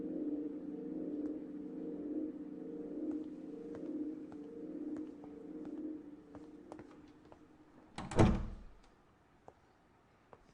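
A door opens with a single solid thunk and a brief rattle near the end, following a steady low room hum with faint scattered ticks, in an indoor scene from a Tamil drama series.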